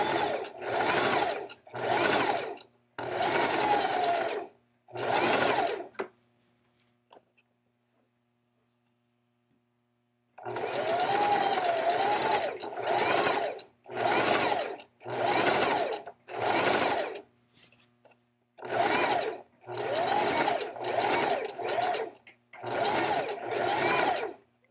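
A domestic sewing machine stitches over yarn to gather fabric, running in short repeated bursts of rapid whirring, with a long pause in the middle before the bursts resume close and clear.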